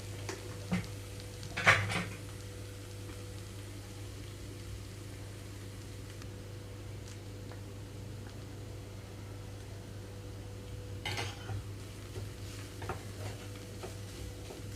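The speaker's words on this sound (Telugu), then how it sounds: "ఇప్పుడు ఇందులోకి నేను కొబ్బరి వేసేస్తున్నాను" Grated fresh coconut goes into a pan of frying carrots: a faint, steady sizzle with a couple of louder scraping stirs, near and quiet, no talk.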